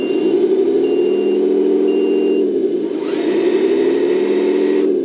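A radio-controlled 10x10 roll-on/roll-off dumper truck with crane backs up, its electric drive whining steadily and close while a reversing beeper sounds in short repeated bursts, before a higher gear whine rises near the end.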